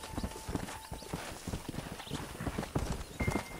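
Horse hooves clip-clop steadily in the Western video game Red Dead Revolver, a quick repeating rhythm of close, moderately loud hoofbeats with a faint whinny, and no talk over it.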